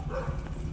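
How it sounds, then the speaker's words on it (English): Dogs bark in the distance on a street corner in Gadsden, Alabama, a couple of faint yips and woofs over a steady low outdoor rumble. "Dogs going off."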